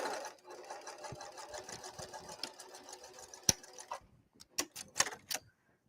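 Domestic sewing machine stitching a seam on garment fabric with a short back stitch, a fast steady run of needle clatter followed by a few separate brief bursts and clicks near the end.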